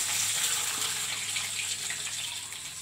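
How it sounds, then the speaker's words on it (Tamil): Water pours steadily into a pan for pineapple kesari, a continuous close rushing gush that softens slightly toward the end. "இப்போ இது கூடவே தண்ணி"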